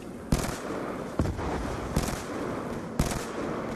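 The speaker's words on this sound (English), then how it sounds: "See the recoil goes up every time I pull the trigger." A video game weapon fires in a Grief mode town match, four separate bursts of gunfire spaced about a second apart over steady background noise.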